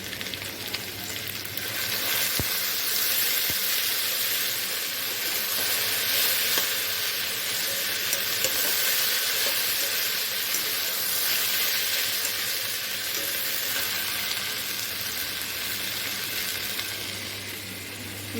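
Potatoes and okra frying in a pan, a steady close hissing sizzle with faint scraping stirs running throughout.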